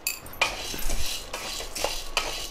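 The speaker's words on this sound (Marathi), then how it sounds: "आता हे पण डाळ पण भाजून घेऊया." Metal utensils clink and scrape against a pan while dal is dry-roasted on medium heat for chakli flour, several sharp close clinks over a soft stirring rustle.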